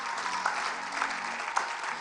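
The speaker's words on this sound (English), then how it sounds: "Clap for yourself." An audience at a church conference session claps together, a dense, even patter of many hands at moderate loudness that carries on steadily.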